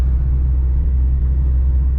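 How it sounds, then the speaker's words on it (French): A car is driven in Kazakhstan, heard as a steady, close, low engine and road rumble that stays even throughout, with no talking. "Il m'a même appris à conduire une voiture."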